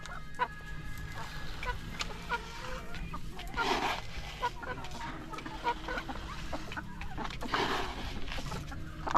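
Backyard hens cluck and murmur while feeding, repeated short clucks over a busy scratching, pecking background, moderately close.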